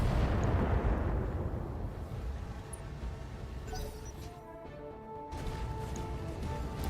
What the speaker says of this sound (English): we'll fire an SRM-6 then